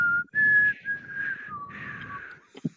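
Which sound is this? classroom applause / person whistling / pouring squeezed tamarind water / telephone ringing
person whistling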